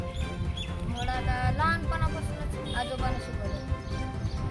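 Horse hooves clip-clop as a schoolboy rides to school in Vairag, a steady rhythm of soft knocks under continuous talk and background noise.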